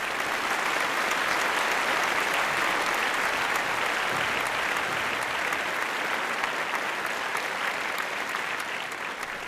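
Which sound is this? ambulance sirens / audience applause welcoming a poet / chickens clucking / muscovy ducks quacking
audience applause welcoming a poet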